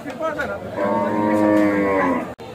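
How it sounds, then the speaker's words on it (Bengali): A white cow at a rainy Aricha cattle market before Qurbani gives one long, loud, close moo that rises and holds before cutting off abruptly. "এই যে সুন্দর যে গরু দেখতে পাচ্ছি সাদা"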